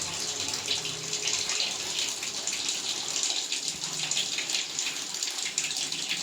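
Running water splashes steadily while soap is rinsed off during a bath, a continuous close gushing and spattering with no talk.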